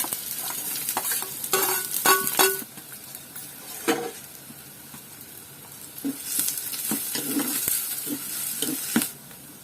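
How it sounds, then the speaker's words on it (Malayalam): Ginger, garlic, green chilli and onion hit hot oil after fenugreek seeds, sizzling and frying for a Kerala-style river fish curry, with a spoon stirring and scraping against the pan in bursts and occasional clinks. "ഉലുവ അങ്ങ് പൊട്ടിക്കഴിയുമ്പം ഇഞ്ചി ഇടാം. ഇഞ്ചിയുടെ കൂടെ വെളുത്തുള്ളി, പച്ചമുളക്, കൂടെ ഉള്ളിയും കൂടെ ഇട്ട് കൊടുക്കാം."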